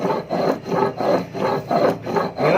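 Chilli spice paste is ground by hand in a steady back-and-forth rhythm, with about six rasping, rubbing strokes close up and no voices.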